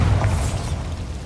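A Bombarda spell blast in Hogwarts Legacy, a single short loud boom with a crackling burst that decays quickly, heard alone.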